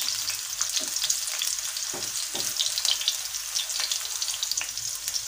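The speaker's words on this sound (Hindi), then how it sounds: "बस इसको हम थोड़ा सा और फ्राई करेंगे" Chicken seekh kababs fry in a pan with a loud, continuous close crackle and sizzle, a few brief scraping touches early on, and no one speaking.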